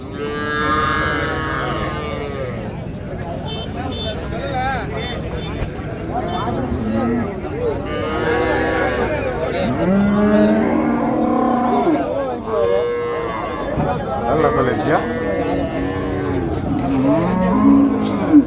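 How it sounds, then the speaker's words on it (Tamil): A pair of young bull calves moos repeatedly at a busy outdoor cattle market, with several moos rising over a steady crowd murmur and people chattering nearby. "நம்ம அண்ணன் காளை குட்டி ஒரு ஜோடி கொண்டு வந்திருக்காரு பாருங்க"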